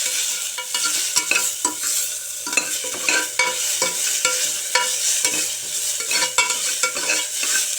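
Onions, green chilies and mint leaves sautéing in a pan: a loud, continuous sizzle broken by frequent rhythmic scrapes and taps of a spatula stirring, close up with no talking.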